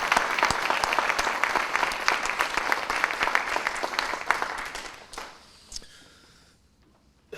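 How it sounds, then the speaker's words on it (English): Audience applause at a high school military recognition ceremony, a dense wash of clapping for about five seconds before it thins to a few scattered claps and fades out. "round of applause for this young man"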